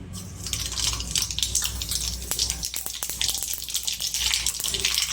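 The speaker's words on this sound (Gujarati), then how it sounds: "તેલ ગરમ થઈ ગયું છે તો આપણે એમાં રાઈ અને જીરું નાખીશું" Mustard seeds and cumin crackle and sizzle in hot oil for a tempering, a steady bright hiss with scattered sharp pops, close and fairly loud, with no talking.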